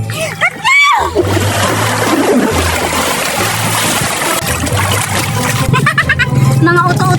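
Children jump into a backyard swimming pool, their entry making one loud splash followed by continuous churning, splattering water as they paddle and play, with kids' voices chattering over the noise.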